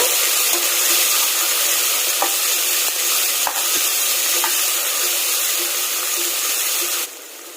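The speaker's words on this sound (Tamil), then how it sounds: "2 மீடியம் சைஸ் ஆனியன் நீட்டமாக கட் பண்ணி ஆட் பண்ணிக்கலாம். நல்லா மிக்ஸ் பண்ணிக்கோங்க." Two medium onions, cut lengthwise, being stirred in a pan for vegetable rice, giving a loud, dense, steady sizzle with a few faint utensil taps before it drops away sharply near the end.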